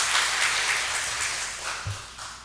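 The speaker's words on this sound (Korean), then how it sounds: "박수 한번 쳐주세요." A congregation applauds during a church service, a warm wash of clapping that stays full and then tapers off gradually.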